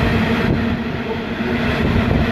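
A train hauled by locomotives passes at Metford station near Sydney, a loud, steady, continuous rumble up close with no talking over it.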